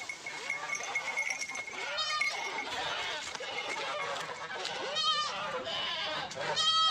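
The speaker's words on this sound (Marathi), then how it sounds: "सगळ्या शेळ्या गेल्या हो बाहेर" Several goats bleat in short wavering calls, a few close by and loud, over a busy farmyard background with some indistinct chatter.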